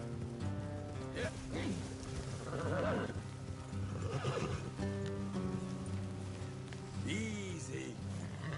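Horses in Red Dead Redemption 2 whinny and neigh several times over a steady clip-clop of hooves and light rain, all close and clear.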